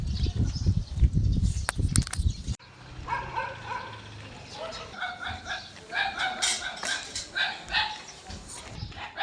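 A dog barks and yips outdoors in a series of short, fairly close calls after a burst of louder noise at the start, with a voice faintly mixed in.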